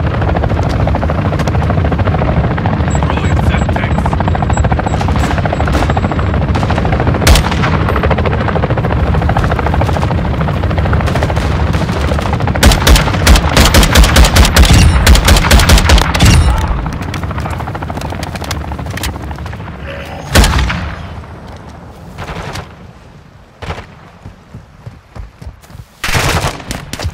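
Gunfire in Call of Duty Modern Warfare 2 gameplay: sustained rapid automatic bursts over a loud, steady helicopter drone, followed by scattered sharp shots and a heavy impact as the rotor noise fades.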